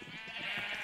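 A Minecraft sheep bleats once, a short wavering cry close by and fairly loud, with no talk over it.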